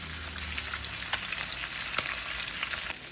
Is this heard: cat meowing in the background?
no